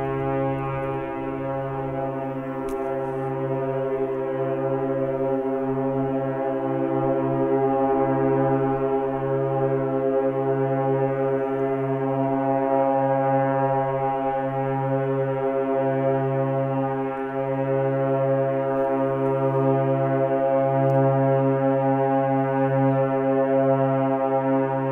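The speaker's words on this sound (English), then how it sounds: "So the horns in the harbour went off, which is pretty cool." Ship horns sound in Montrose harbour, a long, loud, steady tonal blast with pulsing overlapping tones that holds for the full stretch without pause, alone and fairly near.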